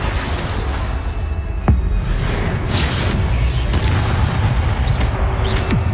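In Hogwarts Legacy, a Confringo spell blast rumbles through a dense, noisy battle mix, a deep boom with whooshing bursts, close and loud.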